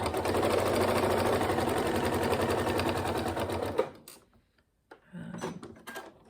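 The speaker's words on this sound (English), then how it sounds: "you're going to sew down it right sides together" A sewing machine runs a seam on a zipped pencil case, a dense rapid mechanical whirr that carries steadily for about four seconds, then stops and gives way to a few quieter handling clicks and rustles.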